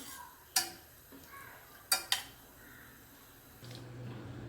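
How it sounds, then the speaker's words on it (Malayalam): A spoon stirs china grass (agar) as it melts in a pan, making a few sharp, quiet scrapes and clicks against the metal over a low background hum, with no talking. "ഇടയ്ക്കൊന്ന് ഇളക്കി കൊടുക്കണം."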